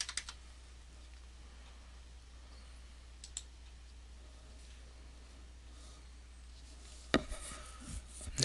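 A few sparse, faint keyboard and mouse clicks sound in a quiet room as a value is typed into a computer setting and OK is clicked, with a small cluster of clicks near the end.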